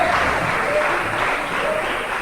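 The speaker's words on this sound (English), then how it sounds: "Give him a round of applause." An audience claps in a steady, dense round of applause that holds evenly for a couple of seconds with no clear voices over it.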